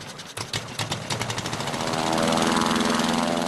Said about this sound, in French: 25 kg de bois et de toile propulsés par un moteur à 4 temps